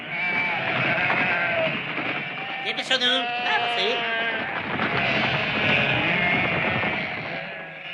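A flock of sheep bleats repeatedly and loudly, close by, while a man calls out over them, urging the animals along.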